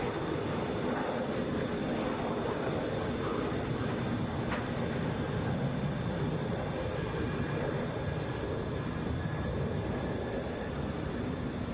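A Boeing 717 airliner at Atlanta's international airport produces a steady, moderately distant engine roar that holds evenly throughout, broadband and continuous with no voices over it.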